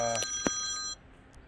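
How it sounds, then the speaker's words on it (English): A telephone rings with a bright electronic chime, a short burst of ringing that stops abruptly after about a second, leaving quiet room tone. "Sorry about the phone ring."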